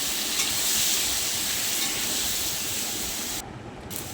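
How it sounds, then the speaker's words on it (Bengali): Pieces of snake gourd fry in hot oil in a wok, giving a loud, continuous sizzling hiss that hardly changes throughout, with no voices. "এবার কড়াইতে দিয়ে দিলাম চিচিঙ্গাগুলো একটু ভেজে নেবো"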